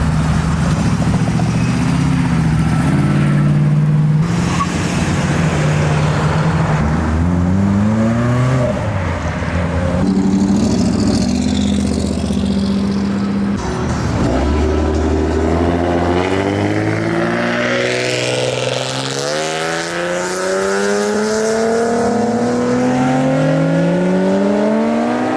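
A Honda Civic Type R and other performance cars revving and accelerating outside a car meet, engines rising and falling in repeated loud sweeps, with passing vehicles and surging exhaust throughout and no talk.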